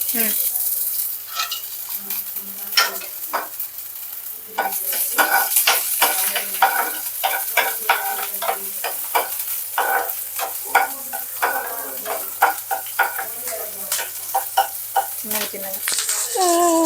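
Green chillies frying in a pan for gobi manchurian, a close, loud oily crackle with many sharp pops over a steady sizzle and occasional spoon scrapes.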